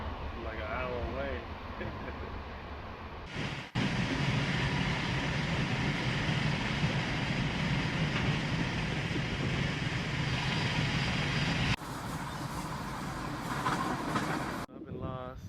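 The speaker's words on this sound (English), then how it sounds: "So now I'm on the train." Interior of a moving passenger train, a steady rumbling roar with rattling and a sudden jump in loudness partway through, with a voice briefly audible at the start.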